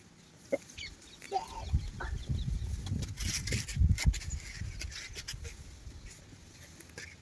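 Chickens cluck and mutter near a village house, with scattered close clucks building into a busy, irregular chatter of several birds amid rustling movement.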